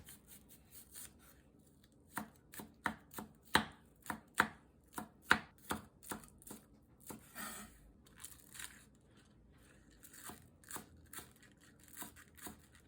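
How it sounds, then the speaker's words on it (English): Knife chopping scallions on a cutting board, sharp crisp chops in irregular bursts, clustered rapidly mid-clip and sparser toward the end, close and clear with no talk. "Cut the scallion into two halves."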